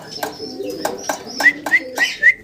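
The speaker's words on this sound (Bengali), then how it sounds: "মাসাল্লাহ দর্শক সুন্দর এক জোড়া লাক্ষা কবুতর আপনারা দেখতেছেন" A pair of white Lakha pigeons coo close by, with a series of short repeated calls coming in a loose rhythm that grows louder toward the end.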